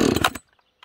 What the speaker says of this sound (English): here's a cold start. This is an auto-tuned saw.